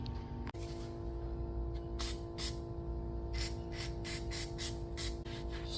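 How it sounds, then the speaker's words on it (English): Several short hissing bursts from an aerosol can of brake cleaner sprayed into a boat trailer hub, some quick and some longer, over a low steady mechanical hum. "Spray some brake clean in there"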